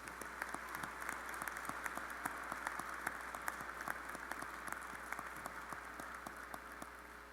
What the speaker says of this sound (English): Let's have a round of applause for all those students hooded in the College of Engineering